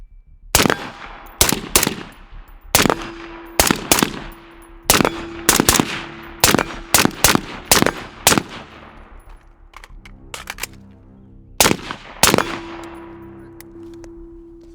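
Rifle shots with a red dot sight ring off steel targets, fired right to left in quick bursts of sharp cracks, each followed by a bright metallic clang and long ringing decay, with a pause partway through before the final shots.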